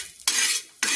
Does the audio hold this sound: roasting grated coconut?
yes